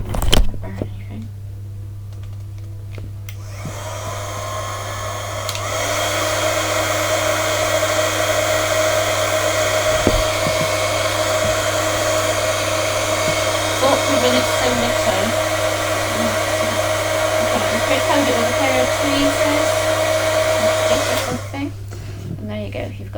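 A heat tool blows a steady, loud whirring rush for roughly eighteen seconds while it heats embossing powder on a small paper gift tag. It starts and stops abruptly, with faint handling noises at either end.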